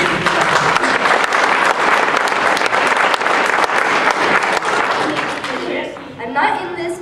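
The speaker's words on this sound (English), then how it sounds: "Give these guys a round of applause." A comic con presentation audience breaks into loud, sustained applause after a live scene, dense clapping filling the room before tapering off at the end.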